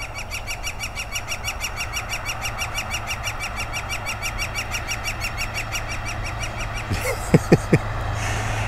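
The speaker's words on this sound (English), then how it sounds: "as you can hear, that woodpecker's right there" Rapid, evenly spaced tapping runs steadily for several seconds, then stops; a few sharper nearby knocks or calls follow, with birds chirping in the background.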